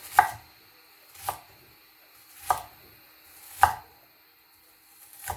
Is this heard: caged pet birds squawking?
no